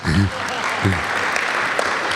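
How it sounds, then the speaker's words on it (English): A short burst of applause from a small crowd at a satsang gathering, loud and close, with a voice briefly speaking over the clapping at the start. "Give a round of applause to him."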